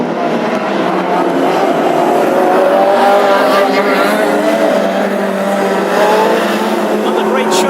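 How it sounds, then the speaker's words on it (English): Classic hot rod race cars roaring around a track during a heat at Birmingham, a loud, steady engine drone with shifting pitch as cars pass, continuous and close throughout. "that engine now firing smoothly on all 4 cylinders"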